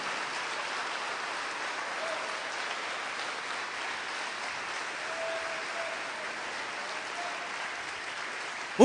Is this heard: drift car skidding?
no